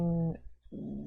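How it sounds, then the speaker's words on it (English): A dog growls in two short, low, rumbling bursts split by a brief silence, close and fairly quiet. "dog."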